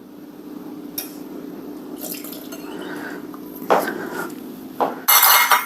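Milk is stirred into two beaten eggs in a bowl, with close, intermittent clinks and scrapes of a utensil against the bowl and a few louder knocks near the end.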